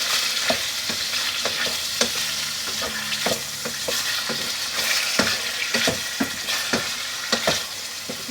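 Turkey escalope strips brown in a frying pan with a steady sizzle, broken by repeated sharp scrapes and clacks as a utensil stirs them.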